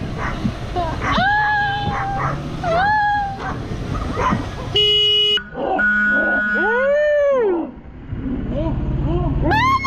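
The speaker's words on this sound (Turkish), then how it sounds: "Köpek!" A dog barks and yips repeatedly, fairly loud and close, amid lively voices and other background noise, during a motorcycle ride with a group.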